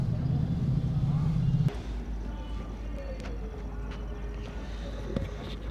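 A car in the mountain-road area near Panchgani and Mahabaleshwar moves slowly while parking: a steady low engine rumble with a brief stronger burst at the start, then a continuous hum with faint clicks.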